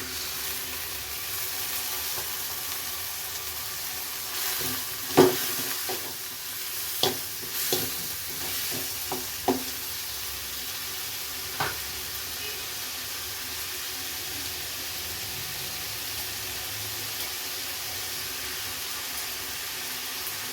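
Tomatoes sizzle and fry in a pan while a spoon stirs them, with a handful of sharp scraping clicks over a steady low hiss.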